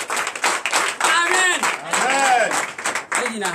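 A church congregation claps in rhythm, loud and close, while voices call out and sing over the clapping throughout.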